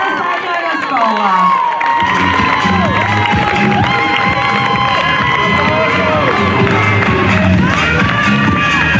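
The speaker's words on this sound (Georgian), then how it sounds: "აქ მეტი აპლოდისმენტები მჭირდება აუცილებლად" A loud crowd of schoolchildren cheers, whoops and claps at a school league football final between School No. 51 and School No. 180, with shouting and an amplified voice over the continuous roar.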